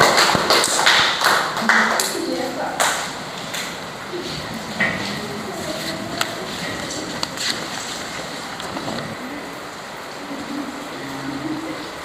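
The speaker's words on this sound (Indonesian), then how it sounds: "Berikan tepuk tangan untuk kelompok 3." Students in a classroom applaud group 3, a burst of loud, scattered clapping that is strongest at first and then thins into lighter claps and taps with voices in the background.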